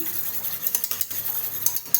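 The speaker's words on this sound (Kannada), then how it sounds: "ಫಸ್ಟ್ ಗಟ್ಟಿ ಮೊಸರು ಕಡ್ಕೋತೀನಿ" A utensil scrapes and taps against a bowl in quick, uneven strokes, whisking thick curd, with soft clicks close by and no voices.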